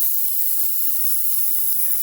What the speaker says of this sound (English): I reduce my air pressure and start spraying yellow color, very light